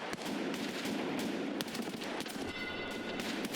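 Gunfire from AI bots in the video game Escape from Tarkov SPT: dense, sustained bursts of shots and clattering reports running continuously under a wash of game noise, no voices.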